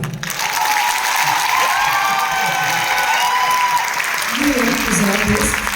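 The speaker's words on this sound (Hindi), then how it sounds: "मोहल्ले की कविताएं पसंद आई, जरा सिर्फ वो लोग तालियां बजा दें।" Audience at a poetry recital by a famous poet during a third-anniversary celebration claps and cheers, a steady, dense wash of applause that holds throughout at full volume and swells slightly near the end.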